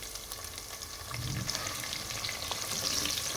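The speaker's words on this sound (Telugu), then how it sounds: "సరే ఆనియన్ని ఫ్రై చేసుకోవాలి ఒక రెండు నిమిషాలు" Chopped onions fry in a pan with garlic, giving a steady, close sizzle and crackle throughout with no talking.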